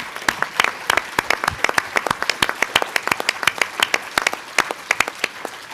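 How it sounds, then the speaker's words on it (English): Audience applause at a university legislative forum, a steady patter of individual claps from a modest crowd, fairly close and even, with no talking. "if you would please join us in applauding everyone who provided testimony or the public comment"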